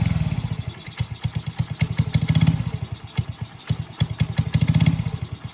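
A motorcycle running for the first time after a Honda Navi engine swap, idling loud and close with a lumpy, uneven chug that surges and sags, plus light mechanical clatter.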